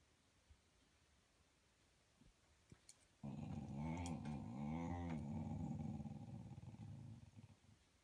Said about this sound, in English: He's growling at you.